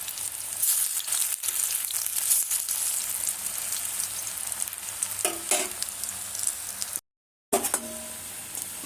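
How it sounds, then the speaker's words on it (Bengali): Gram flour and onion fritters fry in hot oil, giving a steady close sizzle with occasional stirring and turning noises. A brief cut interrupts the sound near the end. "এক এক করে সমস্ত পেঁয়াজিগুলো আমি ভেজে নেব"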